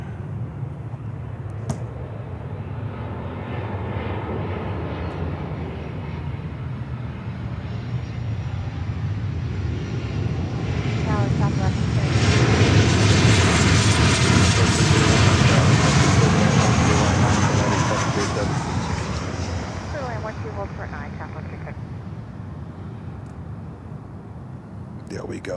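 Jet airliner rolling on runway 9 at Miami International Airport, a broad engine roar that swells to a loud peak midway and then fades, steady throughout with faint voices underneath.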